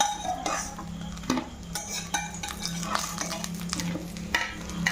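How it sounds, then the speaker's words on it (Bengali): Fried fish heads lifted out of hot oil in a home kitchen, with metal utensil scrapes and clinks over a steady low oil hiss, several sharp knocks of the spatula against the pan. "আমি মাছের মাথাগুলো ভেজে উঠিয়ে নিচ্ছি।"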